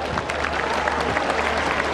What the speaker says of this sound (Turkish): her iki pehlivanımızı şöyle kuvvetli bir moral alkışı istiyorum